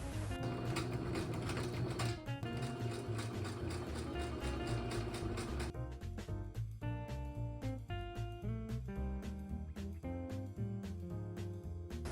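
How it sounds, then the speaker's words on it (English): A sewing machine stitches a fabric bag strap with a fast, steady mechanical whirr and rapid needle clatter. It runs continuously for about six seconds, then slows into separate stitches, all under background music. "Next, I pressed and sewed the strap together."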